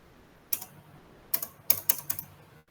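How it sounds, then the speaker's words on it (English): Keys on a computer keyboard clack close up, a single tap followed by a quick burst of several keystrokes entering a search term, in an otherwise quiet room. "you can simply press Control F and write"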